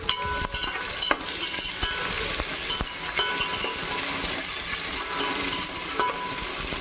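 Chopped onions fry in a pan for a vegetable pulao, giving a loud, steady sizzle broken by the scrape and clink of a utensil stirring, with no voices.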